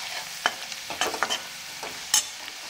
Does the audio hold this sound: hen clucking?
no